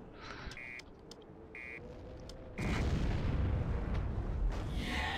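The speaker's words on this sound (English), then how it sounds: "It's always nice seeing choppers explode." Helicopters blowing up in the video game Freedom Fighters: a sudden loud, close explosion rumbles about halfway through and keeps roaring with gunfire and crackling until the end, after earlier quieter game noise and short beeping tones.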